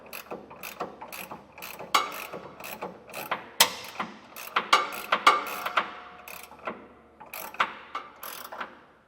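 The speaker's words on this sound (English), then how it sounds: "A ratcheting wrench really does work a lot better." A ratcheting wrench clicks in quick, irregular bursts while tightening a nut during an air helper spring install, with crisp close-up pawl ticks in short strokes and brief pauses between them, and no voices.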